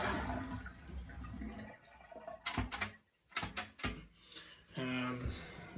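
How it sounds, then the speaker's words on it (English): A household toilet with a faulty fill valve that keeps running is flushed, giving a rushing gurgle of water with clunks of the handle and tank, fairly close and quiet. "So I'm gonna flush the toilet,"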